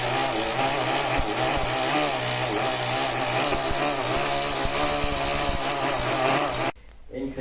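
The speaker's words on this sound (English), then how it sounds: "This engine is now running on sunflowers." A small diesel engine running on sunflower oil biofuel buzzes loudly and steadily at close range, a harsh rattling drone that cuts out abruptly near the end, leaving a quieter tail.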